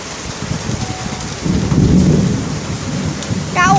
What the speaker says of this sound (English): one bolt, the first loud bolt of the storm, was to hit the place